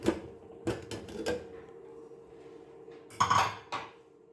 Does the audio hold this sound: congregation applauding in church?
no